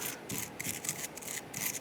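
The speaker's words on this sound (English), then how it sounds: "I'm going to use our bristle brush here." A bristle brush scrubs around the edges of a brake caliper on a 1995-2001 Ford Explorer during a front brake job, a close, steady, hissing rub in short back-and-forth strokes with no talking.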